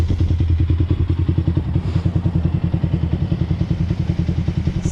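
A 2001 Honda TRX400 ATV engine runs steadily close up, its loud rapid even thumping chugging along for several seconds, checked for a ticking noise, with no speech over it.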